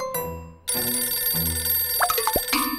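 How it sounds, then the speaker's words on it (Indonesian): A telephone rings with bright electronic tones in repeated bursts, fairly close and loud, with some faint background clatter. "Siapa yang telepon malam-malam begini?"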